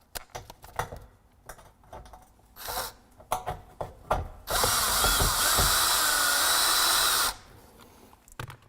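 A power drill drives screws into a brick-imitation wall panel as it is installed. A few scattered knocks and short bursts lead into a loud, sustained whir that lasts about three seconds and then stops abruptly, close by, with no talking.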